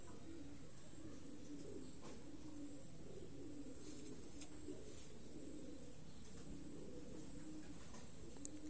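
Domestic pigeons coo in a low, steady, overlapping murmur that runs throughout, close by and moderately quiet, with no talking.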